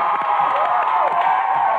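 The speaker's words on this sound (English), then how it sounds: "Big round of applause, everybody." Studio audience on a live children's TV show cheering and clapping loudly, a continuous burst of whoops and applause throughout.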